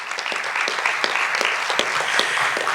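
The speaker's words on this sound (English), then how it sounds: "let's give a big round of applause to number" An audience claps for a student after an oral presentation at Caring for the Kenai 2026, a steady burst of many hands with sharp individual claps standing out, close and continuous.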